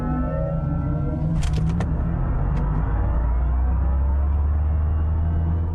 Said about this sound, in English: As an option, we have the performance sound world for the AMG EQE 53.